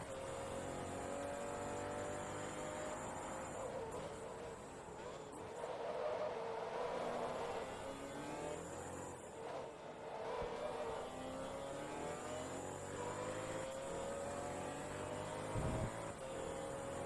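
Supercar engines from the 20th Century Supercar Invitational in Forza Motorsport 2 drone and rev steadily while racing a Mercedes and a McLaren, with gear shifts and rising pitch sweeps under a continuous, dense engine roar.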